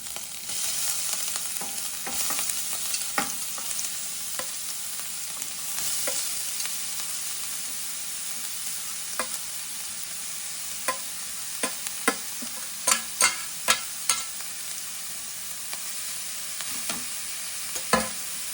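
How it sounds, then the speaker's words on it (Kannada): Carrots fry in melted ghee in a pan, a steady close sizzle with occasional spoon scrapes and a quick run of sharp clacks near the end. "ಈಗೆಲ್ಲ ತುಪ್ಪ ಕರ್ಗಾತೈತಿ ಕ್ಯಾರೆಟ್ ಹಾಕ್ತೀನಿ ನೋಡ್ರಿ ಈಗ"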